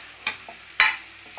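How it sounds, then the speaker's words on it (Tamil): Bottle gourd being sautéed in a pan for a Tamil cowpea gravy, heard as two sharp stirring scrapes with a crackling sizzle and a couple of softer clinks, close and fairly quiet with no talking. "சேர்த்து நல்லா ஒரு வதக்கு வதக்கிக்கலாம்."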